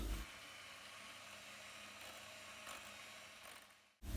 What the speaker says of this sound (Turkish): Bir mikserle katılaşana kadar çırpıyoruz.